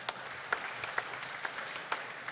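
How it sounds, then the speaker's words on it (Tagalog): Steady applause from a church congregation, moderately distant, a continuous wash of clapping with a few sharper individual claps standing out. "Palakpakan natin ang ating Panginoon."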